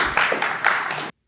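Brief burst of audience applause in a room, dense broadband clapping swelling twice over about a second before cutting off abruptly.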